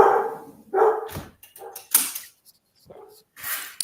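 A dog at a rented property barks in several sharp bursts with short gaps between them, close and fairly loud, with some whimpering in the quiet stretches.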